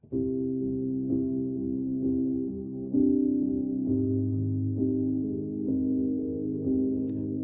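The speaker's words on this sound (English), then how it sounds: "So here's the sound of the Midnight Grand." A quiet felted grand piano, the Fracture Sounds Midnight Grand, plays soft muted chords in a slow sequence, each change marked by a gentle attack with faint brushy mechanical noise, close and intimate with no voices.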